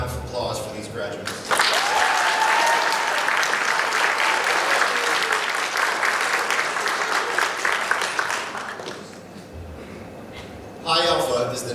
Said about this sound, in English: Please join me in a round of applause for these graduates.